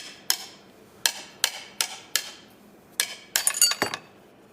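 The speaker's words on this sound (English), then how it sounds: "This is hard glass to cut." Hard stained glass worked for a mermaid lagoon panel gives a run of about nine crisp, ringing clinks and ticks, close and fairly loud, spaced unevenly with a quick cluster near the end.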